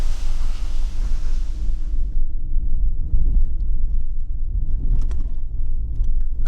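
Strong wind on a mountain road, buffeting a microphone as a loud, continuous low roar that gusts unevenly throughout, with no voices.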